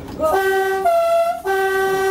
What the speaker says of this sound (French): J'ai klaxonné, ouais.